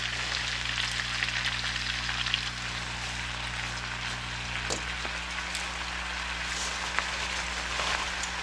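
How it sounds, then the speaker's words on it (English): Fresh spinach sautéing in butter in a pan gives a steady, close crackling sizzle with scattered pops and a low hum underneath, no voices. "So we're going to go ahead and saute our fresh spinach"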